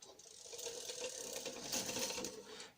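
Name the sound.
clicking of Power Rangers Galaxy Glider toy pull-back wheels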